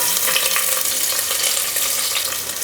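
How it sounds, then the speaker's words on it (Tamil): Mustard seeds and shallots fry steadily in hot oil for goat intestine gravy, a loud continuous sizzle and crackle close up, with no talking. "கடுகு பொரிஞ்சிச்சுங்க"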